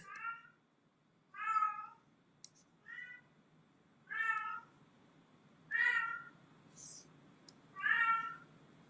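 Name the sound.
cat meowing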